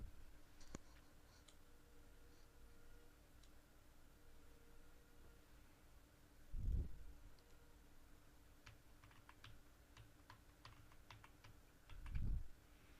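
Quiet, rapid taps on a computer keyboard as an Aadhaar card number is typed in, coming in short bursts with a couple of low thumps in between.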